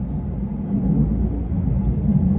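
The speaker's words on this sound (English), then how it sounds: "Sorry for the airplane noise, but I'm near the airport right now." A low, steady rumble of an airplane overhead near an airport, a continuous distant roar with no other sounds.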